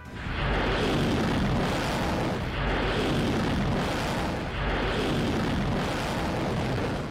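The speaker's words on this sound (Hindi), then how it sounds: "इस वीडियो में यूक्रेनी सेना की एक गाड़ी दिखाई दे रही है और अचानक एक धमाका होता है।" An explosion near a Ukrainian army vehicle in wartime, heard as a loud, sustained rumbling roar with repeated heavy swells and no voices over it.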